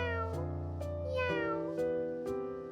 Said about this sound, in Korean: 아기 고양이의 울음소리 같은데?